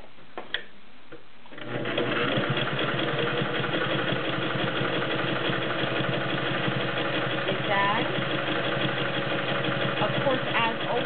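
A vintage all-metal, gear-driven Singer 401A sewing machine runs a straight stitch, starting after a brief pause and holding a steady, rapid mechanical whir and clatter close by for about nine seconds.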